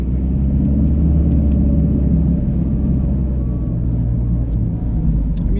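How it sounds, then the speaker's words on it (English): A 2015 Nissan Altima engine runs steadily with a low continuous rumble and road noise, heard from inside the car while driving at an even, moderate loudness. "I can hear the engine."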